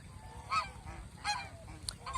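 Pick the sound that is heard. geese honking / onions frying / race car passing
geese honking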